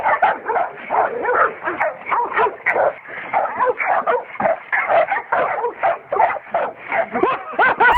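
Dog barking and yipping fiercely at a visitor, a rapid, continuous run of close, loud barks with whining edges that barely pause for the full stretch.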